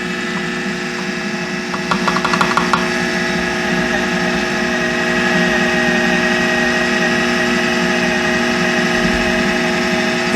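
A food processor spinning pie crust dough with a pastry paddle runs as a steady mechanical whir with a strong motor hum, loud and continuous, with a short burst of rattling around the dough early on.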